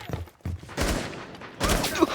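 Bursts of gunfire ring out in the video game Rainbow Six, several loud shots in quick clusters across about two seconds, with little talk over them.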